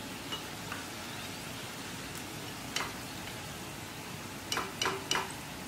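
Sweet maida flour bondas frying in hot oil, a steady soft sizzle and crackle with a few sharper pops and clicks near the end, fairly quiet and with no talking.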